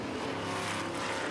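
F5000 open-wheel race cars sweep through a fast corner at Taupo, a loud continuous engine roar with a slight rising pass, no voices.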